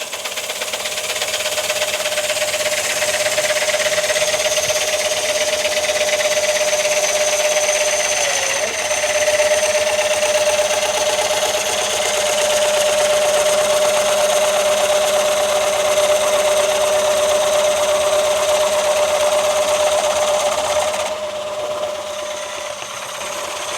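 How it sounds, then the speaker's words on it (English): Wood lathe coring a bowl with a Hunter bit gives a steady, loud, sustained motor hum with a scraping cutting noise over it, nearly unbroken for over twenty seconds, with a slight dip around the middle. "we're going to see if there's a difference in how the Hunter bit cuts compared to how the one-way bit cut"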